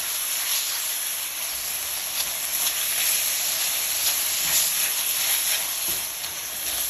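Ostrich meat stir-fries in a preheated wok, a steady close hiss and sizzle with steamy texture and occasional soft stirring scrapes, no voices over it.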